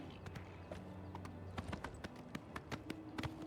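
Hooves of a paint horse clip-clop in Oblivion Remastered, a steady run of hoof strikes at close range over a low ambient game background, with no talking.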